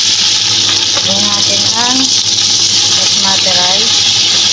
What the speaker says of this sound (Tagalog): igigisa ko na nga ang basmati rice